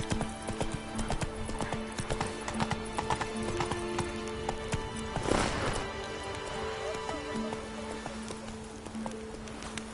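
Roach, Geralt's horse in The Witcher 3: Wild Hunt, clip-clops along in steady hoofbeats under game music, with a brief whinny-like burst midway.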